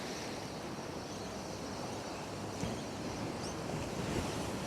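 Ocean waves surge over dark rocks in a broad, steady wash of surf, heard at a distance alongside some wind.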